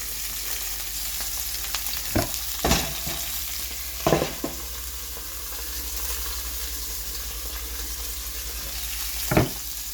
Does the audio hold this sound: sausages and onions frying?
yes